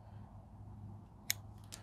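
A pair of scissors snips through an RV awning LED light strip at a copper junction, giving one sharp, close click followed by a fainter second snip over a low steady hum.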